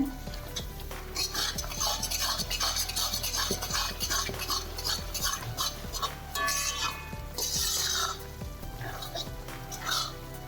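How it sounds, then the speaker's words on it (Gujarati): Flour stirred and roasted in a pan over the gas for Gujarati adadiya, with a utensil scraping and clinking against the metal in a busy, uneven rhythm, fairly close and moderately loud. "આમ હલાવતા રહેવાનું છે અને લોટને શેકતા જવાનું છે."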